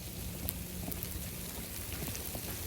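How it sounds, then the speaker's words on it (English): Hail falling outdoors on a winter city street in New York, a steady dense patter of small impacts with scattered sharper ticks, continuous and fairly quiet, with no talking. "It's actually hailing."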